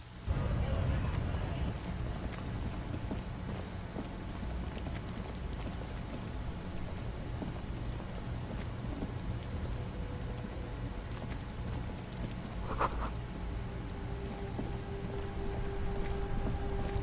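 Steady rain falls throughout a scene in the detective role-playing game Disco Elysium, a constant hiss with a few brief tones and chimes over it. No one speaks.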